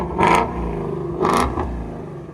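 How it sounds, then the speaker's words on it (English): A Ford Mustang GT350 with its 5.2L Voodoo V8 in sport mode revs its exhaust in two short, loud bursts about a second apart, each settling back to a rumbling idle. "That's a whole different beast now. Now that sounds like a Mustang."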